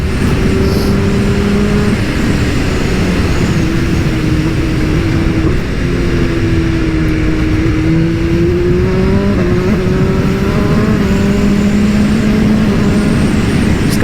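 A BMW S1000RR sportbike at speed, its engine a loud sustained drone with slowly shifting pitch over heavy wind roar, continuous throughout with no talk.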